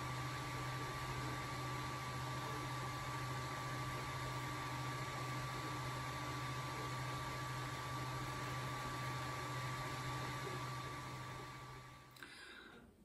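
A 3D printer printing a method feeder, a steady mechanical whir with a constant low hum and a faint tone above it. The sound runs unbroken and fairly quiet, then cuts off near the end.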